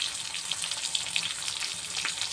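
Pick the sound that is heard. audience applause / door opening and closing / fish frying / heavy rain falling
fish frying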